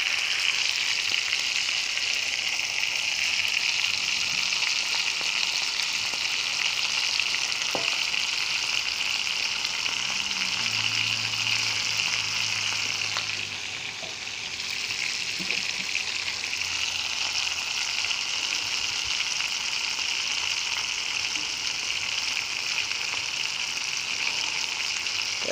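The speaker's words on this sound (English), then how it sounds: "just cook these patties same way you did the other patties" Beef patties for Salisbury steaks frying in a pan, a steady loud sizzle with bright crackling that continues without pause, with a faint clink of utensils partway through.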